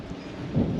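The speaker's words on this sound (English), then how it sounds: "I do apologize for the wind. It's kind of windy out here." Steady gusty wind rumbling and buffeting outdoors, a dull low roar that swells slightly near the end, with no voices.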